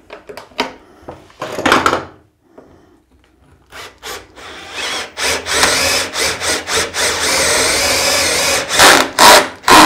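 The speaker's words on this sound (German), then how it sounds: "Und als nächstes werde ich jetzt mal die Löcher durchbohren" Wood being worked by hand for holes that take threaded rods, on a homemade front vise: a few scraping bursts, a pause, then steady, loud grinding and rasping strokes close by with no talk.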